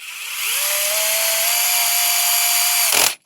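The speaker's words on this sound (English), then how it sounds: "my plan was to use the DeWalt just to drive them in to save a bit of time" DeWalt power drill driving parts into a Reve-D RDX RC chassis, a steady whining motor run of about two and a half seconds that rises quickly to speed and stops abruptly, loud and close with no talk.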